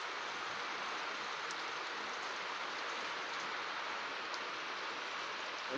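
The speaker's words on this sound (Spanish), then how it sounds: "Está impresionante esta lluvia." Heavy rain falls outside in a steady, dense hiss that continues unbroken, with no voices over it.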